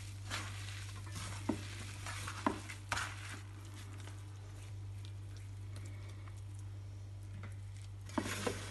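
Grated courgettes being mixed with salt in a bowl: quiet wet stirring and squelching, with a few sharper taps against the bowl and a steady low hum underneath.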